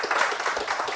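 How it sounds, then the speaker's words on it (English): Brief burst of applause from the audience at a local Democratic club school board endorsement forum, a dense patter of clapping lasting about a second. "can we just give a quick round of applause?"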